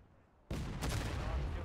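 Rifle fire in the Civil War game War of Rights: after a quiet moment, a sudden loud shot bursts in, then a sustained rumbling volley and echoing crackle of musketry.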